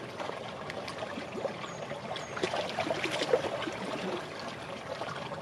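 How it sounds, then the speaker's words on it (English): Creek water trickles and gurgles into the dirty-water bag of a Sawyer Squeeze filter on a North Dome hike, a soft, continuous outdoor flow with a faint bubbling that swells slightly midway, and no talking. "I'm just going to fill it up with water."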